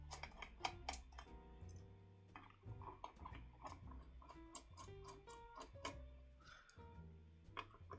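Steady, quick typing on a CIY Gas67 RGB gasket-mounted hot-swappable mechanical keyboard, with dense clacky keystrokes close up over faint background music.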